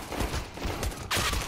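Counter-Strike match gunfire, with a dense, continuous burst of rapid shots filling the moment and a louder surge of firing toward the end, close and loud.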